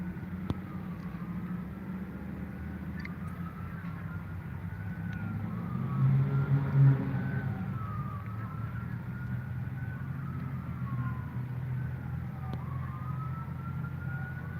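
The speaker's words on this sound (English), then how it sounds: "See, here's sirens in the background." Wailing emergency vehicle sirens rise and fall far off, sustained over a low traffic rumble outside a shopping mall, with a brief louder swell midway.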